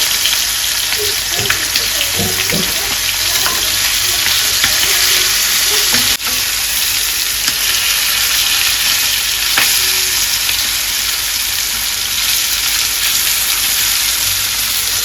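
Fish fries in a pan with curry leaves, turned over to cook the other side; a loud, dense, continuous sizzle close up, with brief clatters from flipping early on and one sharp tap midway.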